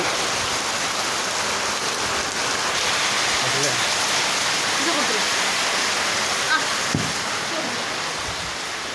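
Heavy monsoon rain pours steadily onto the roofs of poor people's houses, a dense continuous hiss of water with no let-up and a few faint knocks underneath.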